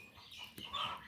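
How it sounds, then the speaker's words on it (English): Chickens cluck faintly in the background outdoors, a short soft burst that swells slightly near the end. "You're going to hear chickens, birds and dogs in the background"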